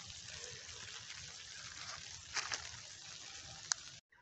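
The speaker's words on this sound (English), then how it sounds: "And this is the micro sprinkler." A micro sprinkler in cocoa irrigation sprays water with a soft, continuous hiss, joined by a few brief splashy bursts and a sharp click near the end before it cuts off.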